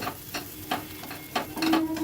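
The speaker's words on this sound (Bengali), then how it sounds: "সব কিছু ভালো করে মিশিয়ে নিচ্ছি" Stirring in a frying pan: a few scraping strokes at an uneven pace over a soft background sizzle, with a faint high tone near the end.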